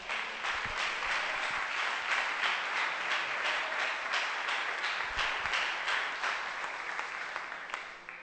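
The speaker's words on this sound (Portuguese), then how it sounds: "Dá uma salva de palmas para Jesus" A church congregation at a Sunday worship service bursts into sustained, dense applause, many hands clapping together and steady in volume before gradually tapering off toward the end.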